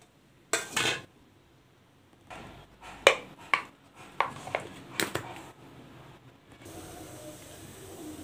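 Curry leaves, coriander and green chillies ground into masala, heard as a series of short clattering, grinding bursts with pauses between them, followed by a steady whirring grind near the end.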